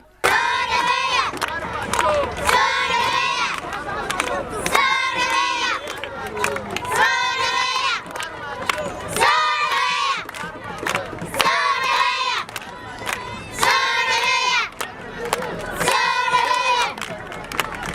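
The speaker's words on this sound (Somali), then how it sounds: "dadweyne aad u fara badan iyagoona ku dhawaaqayay" A large crowd gathered to welcome Somalia's federal president shouts and chants in loud rhythmic bursts, repeating roughly every two seconds in a call-and-response pattern throughout.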